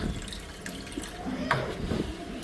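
Water running into a bucket in a home kitchen, a soft continuous splashing pour with small drips and clatter, moderately close, with people talking faintly under it.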